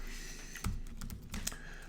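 Someone types on a computer keyboard during a spreadsheet lesson, giving a few quick, close key clicks and taps over a low steady background hum, with no speech.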